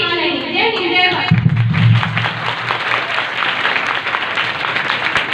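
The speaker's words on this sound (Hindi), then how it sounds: "क्या बात, जोरदार तालियां।" An audience at a school career-counselling workshop bursts into loud applause after a student's speech, steady dense clapping that fills the room, with a voice speaking over it at the start.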